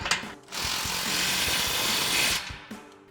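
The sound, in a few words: ratchet tightening exhaust link pipe clamp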